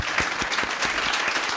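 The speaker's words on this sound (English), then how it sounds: "Let's applaud them for being here." Audience applause at a League of Women Voters discussion of the Centennial Dam, steady hand clapping from a room of people that continues throughout the short clip.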